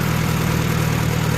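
A Farmall A tractor engine idles steadily at low throttle, a continuous close low rumble with even vibration and no talk.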